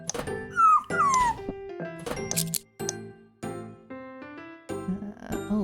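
Dogs at a shelter bark and whimper in a string of short, uneven, high-pitched yelps and whines, fairly close, with brief quiet gaps and a faint jingling in between.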